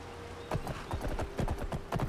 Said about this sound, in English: Thank goodness he's a Skyrim horse and he can do the impossible.